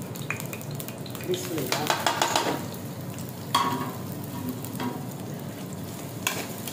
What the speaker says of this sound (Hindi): अब इसमें हम प्याज ग्राउंड करते हैं